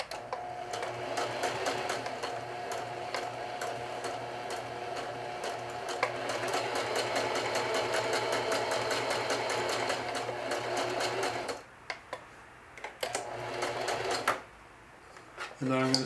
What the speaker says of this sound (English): trying to avoid going off the edge of the cloth with the zigzag stitch